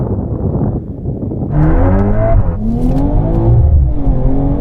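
Tuned cars, a BMW M240i, AMG A45, Audi RS3 and Golf R, accelerate hard in a quarter-mile drag race. A loud engine climbs through rising revs, drops pitch at a gear change, then pulls again, close and steady.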